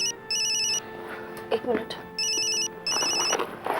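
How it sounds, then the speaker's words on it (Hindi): A mobile phone ringtone rings indoors in repeated bursts of bright electronic tones, with short pauses between them and people talking over it. "ये किसका फोन?"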